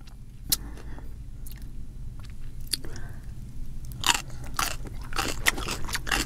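Close crunchy bites and chewing of fried striped bass with sticky rice and vinegar-and-sugar cucumber, eaten by hand, with wet smacking and scraping sounds that grow louder toward the end over a low background hum.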